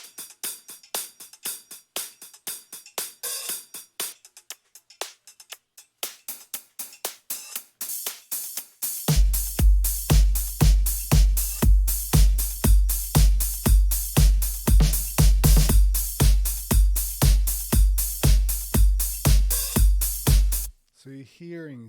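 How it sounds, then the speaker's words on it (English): Layered drums for a retro 1980s-style electronic track: sparse ticking percussion at first, then a heavy pounding kick enters about halfway and drives a dense, noisy, full-kit groove until an abrupt stop. "all of the drums together sound like this."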